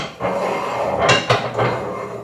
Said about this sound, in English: we're going to slide our axle beam in